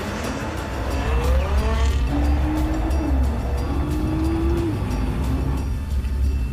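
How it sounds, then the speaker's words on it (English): A Nissan GT-R is driven at moderate speed over rough roads during a factory test drive, giving a steady rumbling road and engine drone with a wavering tonal whine rising and falling over it. "We drive at about 50 to 60 kilometers per hour on rough roads to really jolt the suspension and wheels."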